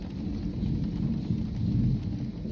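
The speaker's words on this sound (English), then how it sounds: "You hear the thunder?" Thunder rumbles low and steady over falling rain on a rainy Saturday afternoon, a continuous deep roll with no one talking.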